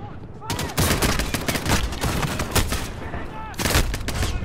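Rapid bursts of gunfire fill a Call of Duty: Modern Warfare campaign battle, loud and dense with sharp impulsive shots and overlapping volleys throughout, with some chatter mixed underneath.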